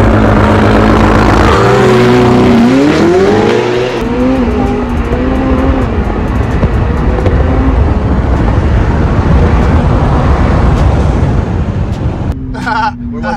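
Supercars, a McLaren 720S against a Ferrari 488 Pista and a Ferrari F8 Tributo, launch hard in a drag race. Engines roar loud and close with rising gear-by-gear revs, fading into sustained wind-swept engine noise, with a brief pause near the end.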